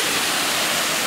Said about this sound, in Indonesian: Memang deras kalau curug ini memang spesifikasinya kayak gini.